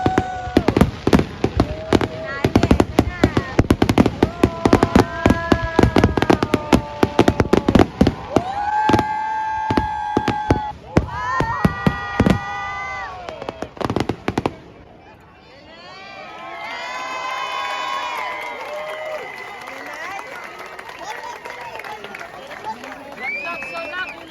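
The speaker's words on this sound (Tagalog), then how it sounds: "na-enjoy niyo rin yung fireworks namin" Rapid bursts of Canada Day fireworks pop and crackle loudly, while voices shout and talk excitedly over them before the explosions fade out.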